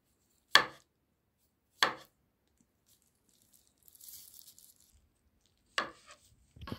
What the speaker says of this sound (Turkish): İnce ince diliyoruz.